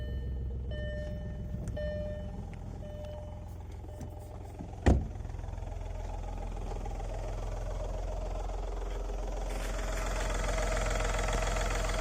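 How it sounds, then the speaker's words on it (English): Idling VW Lupo 3L engine with first gear engaged, a steady low rumble throughout, one sharp clunk near the middle, and a slightly rising hiss toward the end. "Let it idle and engage first gear."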